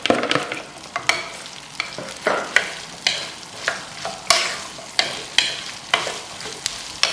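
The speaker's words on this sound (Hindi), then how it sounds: "भिंडी को अच्छी तरह हम रोस्ट करेंगे ताकि कच्ची न रह जाए।" Okra frying in ghee with mustard seeds is stirred briskly in a pan, giving a crackling sizzle broken by regular scraping strokes of the spoon, about one every half second.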